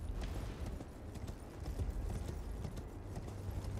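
Horse hooves clip-clopping steadily in Elden Ring, a fast rhythmic gallop over a dense, rumbling game soundscape, moderately loud and continuous throughout.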